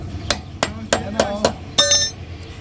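A hammer taps a metal cap back into place on a Pride car's rear axle: five sharp, ringing metallic strikes at a steady rhythm, then a final louder clinking blow, close and clear with no talk.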